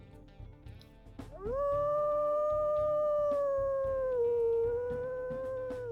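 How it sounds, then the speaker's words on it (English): A female timber wolf lets out a long, sustained howl that rises and then holds steady, slightly higher pitched, loud and clear with no talking over it. "We'll also go ahead and listen to her howls."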